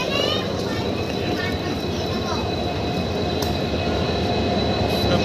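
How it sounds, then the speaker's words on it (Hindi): Train arriving at a railway station, a loud continuous roar and rumble of passing carriages with a high squeal, steady throughout under crowd noise and voices. "हमारी ट्रेन आ चुकी है और आप देख सकते हो आ गई हमारी ट्रेन"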